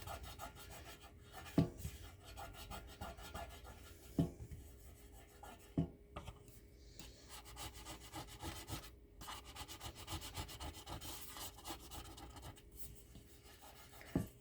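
Rubbing and scraping at sticky residue on a heavy-duty stainless steel item, a steady close rasping friction with a few sharper knocks, no talking.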